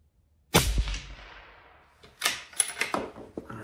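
A single sharp gunshot from a rifle during barrel break-in rings out near and loud, its echo decaying over a second, followed by a few quick mechanical clicks and clacks of handling the gun.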